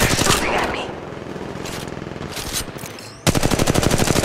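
Automatic weapon fire in the mobile battle royale game Apex Legends, with loud rapid bursts at the start, a quieter stretch with scattered shots, then a sustained close burst of fast gunfire to the end.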